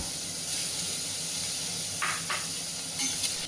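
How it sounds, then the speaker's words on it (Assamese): Onions sizzle in hot oil with black cumin seeds, left after frying fish, giving a steady close hiss with brief louder spitting bursts, no talking. "আৰু এতিয়া দি দিছোঁ তাতে পিঁয়াজ।"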